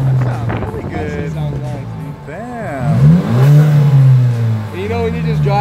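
An Audi A3's engine revs up and down outdoors in loud, rising and falling sweeps with a deep exhaust drone, heard up close with wind buffeting the microphone and a voice talking.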